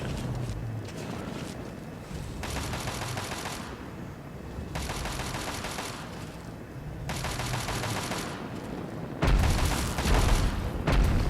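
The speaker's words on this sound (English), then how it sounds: "That sounds like a turret." Automated turret in Fallout 3 firing in sustained rapid bursts, with loud stretches of gunfire separated by short pauses and a heavier burst near the end, with no talk over it.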